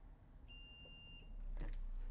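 Single thin, high electronic beep lasting under a second from a Tinyuet keypad door lock during a reset, quiet in the room, followed by a short rustle of handling.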